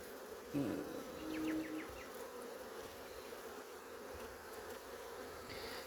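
Honey bees buzz around an open hive during a spring apiary check in Melbourne, a steady close drone with a louder burst of nearby wingbeats early on over faint outdoor background.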